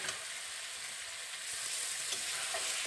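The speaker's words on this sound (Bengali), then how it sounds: "ভালো করে এই মশলার সঙ্গে পটলগুলোকে কষিয়ে নেব" Pointed gourd sautéing with spices in a pan makes a dense, steady sizzle that swells slightly louder halfway through, with faint spatula scrapes and no voices.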